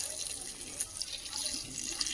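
Water drawn by a hand pump gushes and splashes in a steady, moderately loud outdoor flow with a few drips, and nobody speaks.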